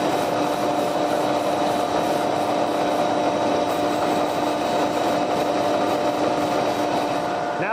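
Grinding a point on cutlery blades in a knife factory, a continuous steady abrasive whine and hum with constant loudness, close and without pauses.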